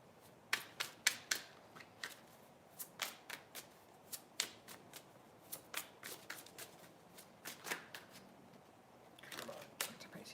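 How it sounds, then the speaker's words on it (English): Tarot cards shuffled by hand in a quiet room, a steady run of crisp riffling and snapping bursts about once a second, fairly close and soft, with no talking. "Let me go ahead and start shuffling cards."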